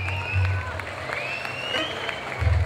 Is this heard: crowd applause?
yes